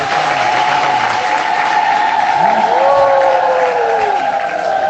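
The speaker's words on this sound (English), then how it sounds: "give some claps" An audience at a religious discourse in Kashi applauds together, a dense, steady wash of clapping held at an even loud level throughout, with a sustained tone sounding over it.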